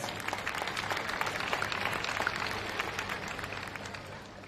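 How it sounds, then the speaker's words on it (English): An audience at a Champions of the Future Academy kart racing event at Al Forsan applauds in steady, fairly faint clapping heard from a distance, continuing evenly throughout. "please give one big round of applause"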